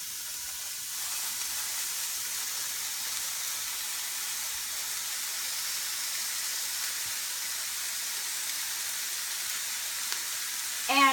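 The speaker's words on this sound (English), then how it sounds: "While that's sauteing, then I go ahead and start cooking the ground turkey" Ground turkey sizzling in a pan alongside sautéing onion, a steady close hiss of frying that stays even throughout with no talk, ending with a brief louder clatter.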